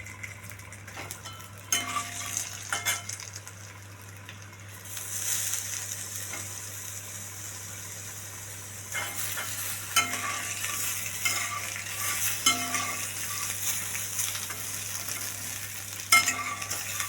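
Potatoes fry in a pan with a pinch of asafoetida, a steady sizzle broken by repeated scraping stirs and metal clinks of a spoon against the pan, close and fairly loud.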